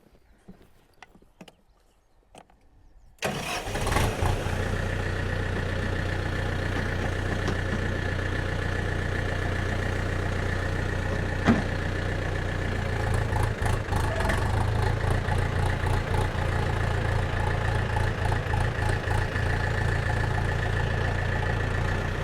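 A farm vehicle's engine starts up and runs steadily after a few quiet seconds of faint clicks and voices, a close, constant rumble with mechanical rattling and a brief knock midway, growing slightly louder near the end.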